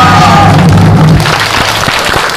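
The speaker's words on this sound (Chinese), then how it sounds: "我们一起给谢国良个热烈的掌声" A crowd at a Keelung mayoral campaign rally for Hsieh Kuo-liang applauds loudly and close by, with a voice briefly heard over the clapping at the start.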